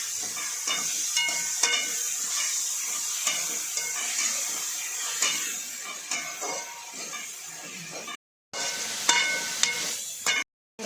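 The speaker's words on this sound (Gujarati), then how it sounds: "હવે ડુંગળીને આપણે થોડી વાર માટે શેકવાની છે।" Onions roast in a pan with a little salt, making a quiet, steady hiss with light scraping and stirring taps, briefly cut to silence twice near the end.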